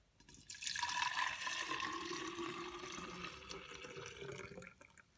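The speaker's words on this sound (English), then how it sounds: "I am putting it into my milk jug." Homemade walnut milk pours steadily into a milk jug, a continuous liquid splash and trickle that swells in and runs for several seconds before tapering off, heard alone and fairly faint.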